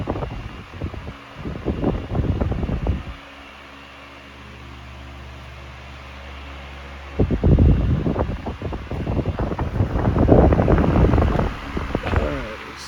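A Frigid 16-inch double-oscillation table fan, model OSH-163-9, blows steadily, its airflow swelling into gusty bursts against the microphone as the head swings past, then fading back to a soft hum between sweeps.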